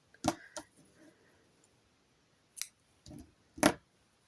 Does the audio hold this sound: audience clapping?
no